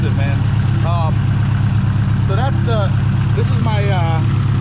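A car engine with a Garrett turbo idles steadily and close, a constant low rumble under a person talking.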